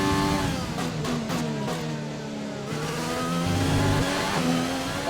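A Formula 1 car in the F1 2020 racing game screams as it accelerates hard, its high engine note climbing and shifting through gears, loud and steady, with no voices over it.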